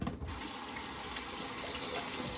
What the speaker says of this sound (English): Get that rinsed off.